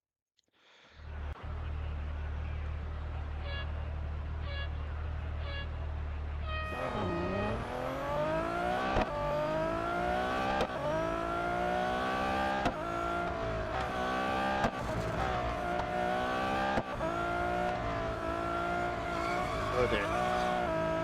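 Race car lapping an autocross event at Suzuka in the Real Racing 3 game: engine idles low at first, then roars up loudly with rising, repeated gear-shift sweeps and tire squeals running continuously to the end.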